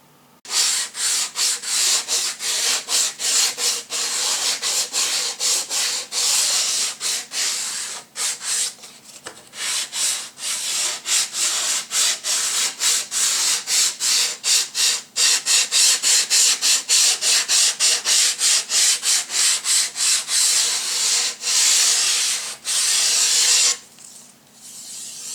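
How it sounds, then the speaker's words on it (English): Wooden pieces for a model RC shaker plant have their cut edges sanded by hand, a close, steady run of rapid scratchy rubbing strokes with a couple of short pauses, no talking. "I've quickly sanded the edges of these"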